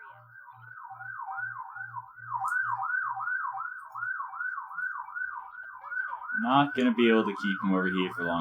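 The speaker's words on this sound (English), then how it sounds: "And I'm sorry about the sirens outside." Emergency vehicle sirens wailing outside in a steady rising and falling cycle, fairly loud and continuous, with a low pulsing tone beneath at first and a voice talking over them toward the end.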